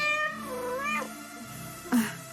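A cat meows in a drawn-out, wavering call, then gives a shorter second meow, close and clear over a soft background with no talk.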